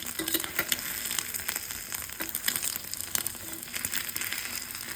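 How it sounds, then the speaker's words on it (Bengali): An egg sizzles and crackles steadily in a small pan used for tempering spices, with a continuous bright frying hiss broken by irregular pops and spatters, fairly quiet and close, with no talking. "এই হলো ভাইরাল ডিম ভাজা"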